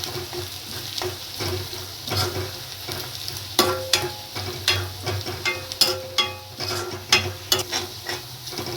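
Chopped green chillies sizzle and fry in a pan over a medium gas flame, with steady crackling broken by sharp clicks and scrapes of a spoon stirring at close range.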